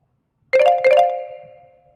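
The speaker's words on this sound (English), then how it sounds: "Damn, that's my bell." A bell rings out with two quick strikes followed by a sustained ringing tone that slowly fades, loud and close, with no talking.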